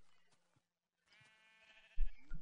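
A sheep in a video game gives a short bleat near the end, after faint quiet game sounds.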